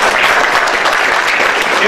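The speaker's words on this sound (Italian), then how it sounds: "Un applauso anche per lui." Dense audience applause with many hands clapping steadily at a Sicilian-language poetry book presentation, loud and continuous with no gaps.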